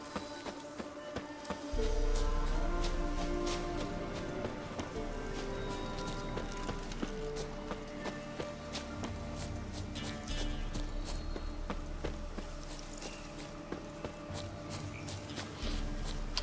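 A horse in The Witcher 3 gallops with steady, rhythmic clip-clop hoofbeats that start abruptly and continue throughout, close and fairly loud over a soft game background.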